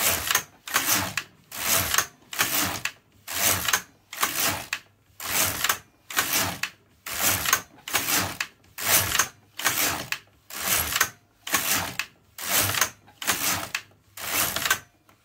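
Carriage of an LK150 knitting machine sweeping back and forth across the needle bed, about fifteen steady rhythmic passes, each a close, loud rasping whoosh separated by short pauses.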